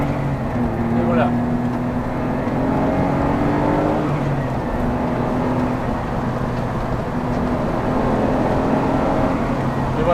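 A Smart Roadster Brabus Coupé drives along small country roads, its engine droning steadily from inside the car at a constant level throughout, with some low talk in the cabin.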